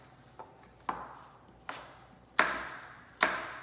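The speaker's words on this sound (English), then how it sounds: "And then I just make my apple slices." A knife slices through an apple on a cutting board in five separate crisp cuts, each a sharp close crunch followed by a brief scraping tail, spaced unevenly in a quiet room.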